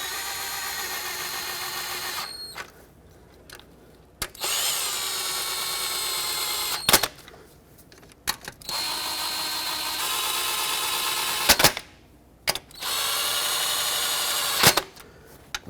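A power tool tightens intake manifold bolts on a Ford Flex, several short bursts of high whirring with abrupt stops, sharp clicks and quiet gaps between runs.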